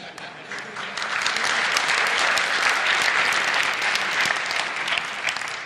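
A conference audience breaks into steady applause, a dense wash of many hands clapping that swells quickly and holds at a strong level, with a few voices mixed in.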